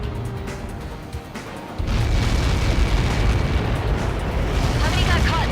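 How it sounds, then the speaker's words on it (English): A massive Helios projectile strike detonates in Ace Combat 7, first with distant rumbling and radio chatter, then a sudden loud blast that swells into a sustained, roaring wall of noise filling the rest of the moment. "How many got caught in that explosion?"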